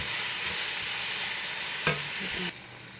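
Onion frying in a pot for a ground beef stew, a steady soft sizzle with one brief scrape of a utensil near the end before the level drops.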